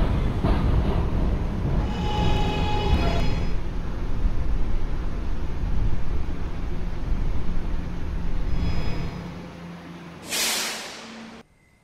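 An R211A subway train in a Roblox game rolls in with a loud, rumbling roar that fades as it stops, then gives a sharp burst of air-brake hiss before falling quiet.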